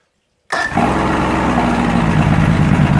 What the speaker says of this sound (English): bump the starter, fires right up.